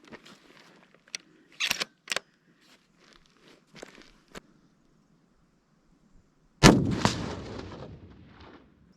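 A single loud, sharp rifle shot from a Ruger American .308 fired at a 100-yard target outdoors, preceded by quiet handling clicks and footsteps and followed by a decaying echo.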